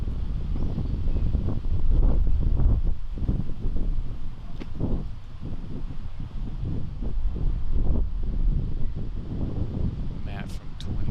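Gusty wind buffets the microphone across an outdoor disc golf course, a steady low roar with swelling gusts throughout and faint talk in the background.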